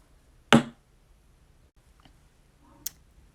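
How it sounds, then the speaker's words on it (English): Sharp tap of a pencil used as a classroom signal: one loud, crisp click near the start, then a fainter second tap later, in an otherwise quiet room. "Remember, our signal that we use is the pencil tap,"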